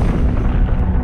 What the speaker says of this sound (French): Vous imaginez la force de l'explosion ?